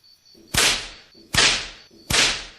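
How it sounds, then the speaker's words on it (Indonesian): A black whip cracks three times in a steady rhythm, each a sharp close snap followed by a brief decaying swish, with silence between strikes. "Cambuk hitam itu melecut-lecut di udara dan mengeluarkan suara meledak-ledak."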